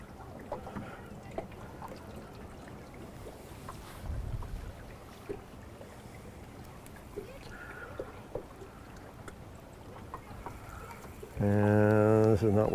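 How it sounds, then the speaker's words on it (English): Wind blows across a river during fishing, a steady close broadband rush on the microphone with a low gust near the middle and a loud buzzing tone entering at the end. "Sure, you can hear that wind. It's blowing me straight upstream"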